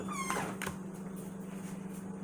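A dog named Messiah whines faintly in the background, a few thin rising whimpers at the start over a steady low household hum, followed by light knocks and no talking.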